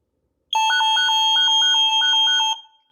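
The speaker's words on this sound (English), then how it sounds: "So now I want to show you guys how loud this alarm system is." Nest Secure security alarm going off indoors: a loud, sharp electronic tone with rapid repeating beeps pulsing over it for about two seconds, then cutting out and ringing briefly.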